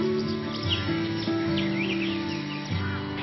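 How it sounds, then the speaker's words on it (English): Birds call in the Roanoke River floodplain, with several chirps and tweets over a soft layered background. They sound moderately faint and continue with no talk. "214 bird species inhabit the floodplain."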